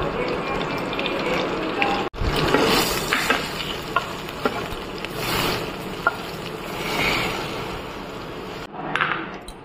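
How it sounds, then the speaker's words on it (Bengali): Potatoes frying in hot oil with turmeric and salt, a steady close sizzle with stirring scrapes that continues with small swells for most of the stretch, then briefly cuts out near the end. "প্রথমে আলুটা ভেজে নিচ্ছি, অল্প একটু হলুদ আর নুন দিয়ে নিচ্ছি"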